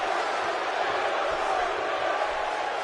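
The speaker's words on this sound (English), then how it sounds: "Crowd still chanting, "You look stupid."" A wrestling arena crowd in WWE 2K17 chants and roars as a dense, steady wash of many voices, with no clear individual words.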